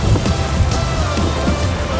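Steady rain patters and hisses on a surface, a continuous wash of drops with a low rumble underneath, no voices.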